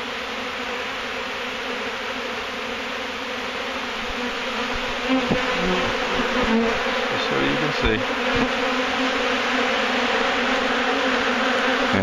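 Honey bees swarm around a hive inside a rotted wooden trailer, a dense, steady buzzing that fills the whole stretch and swells slightly louder midway, with a voice speaking briefly over it.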